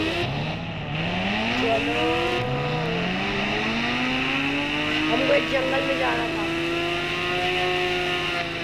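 A Ghost Rider motorbike engine in a video game revs up in rising whines, one climb after another before settling into a steady high drone, with someone talking over it.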